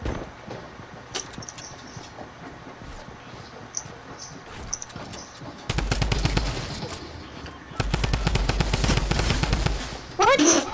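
Gunfire in the video game Fortnite: after quieter stretches with scattered shots, two dense bursts of rapid automatic fire land close and loud, the last one running about three seconds.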